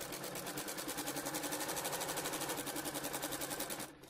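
A sewing machine stitches a circle of fabric, a loud, even, rapid needle chatter running steadily for about four seconds before stopping.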